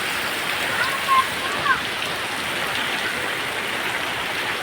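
Heavy monsoon rain pouring down steadily in the open, a dense continuous hiss of drops with water running, and a couple of faint brief sounds near the start.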